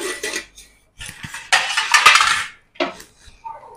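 A cooking pot is lifted off a gas stove and food is served onto a plate, with close, loud metallic clanks, scrapes and clatters in irregular bursts separated by short pauses.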